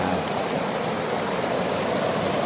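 Water draining out of a fish trap, a loud steady rushing flow close by that continues without a break and with no voices.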